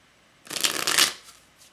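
A deck of tarot cards is shuffled close up in one quick riffle, a dense papery flutter lasting about a second before a faint shuffle trails off.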